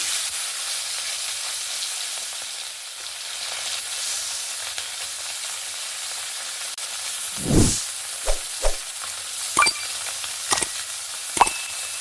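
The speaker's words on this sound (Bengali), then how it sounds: "আমার এখানে কড়াইটা সুন্দরভাবে গরম হয়ে গেছে, ধোঁয়া উঠতে শুরু করেছে। এবার আমি মাছগুলো দিয়ে দেবো।" Steady sizzling hiss of sea fish (mourala) frying in smoking-hot oil in a kadai, joined partway through by several sharp clinks and scrapes of a utensil against the pan.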